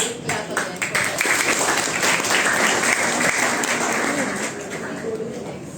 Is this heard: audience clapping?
yes